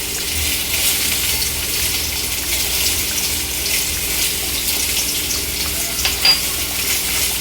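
Cumin and fennel paste frying in a pan over a low gas flame: a steady, even sizzle runs throughout with faint stirring scrapes and one brief clink near the end, no talking.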